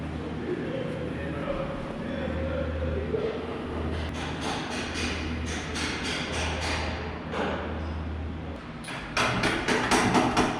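Metal-on-metal hammer strikes on a bolt while installing lowering springs on an Infiniti Q50s, a cluster of sharp bangs near the end over a steady low hum and background rumble.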